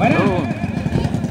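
Drag racing engines fire up at a Batangas drag strip event, a loud revving motorcycle-like roar with rumbling, pulsing idle under excited announcer talk.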